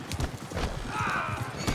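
Horse hooves clip-clop at a steady trot in the Western game Red Dead Online, close and continuous, with a brief whinny-like tone partway through and no talk.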